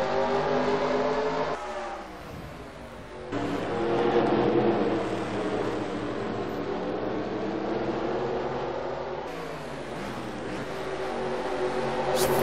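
Race cars in a racing video game set at Silverstone, pulling away at the green flag: a dense pack of engines drones and revs continuously, the pitch shifting as they accelerate, loud and steady with no voices.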